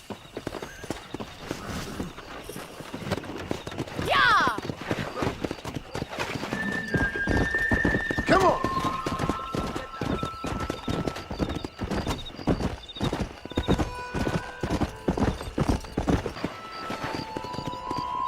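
Horses galloping in the video game Red Dead Redemption, a steady close clip-clop of hooves running throughout with a couple of loud neighs and whinnies early on.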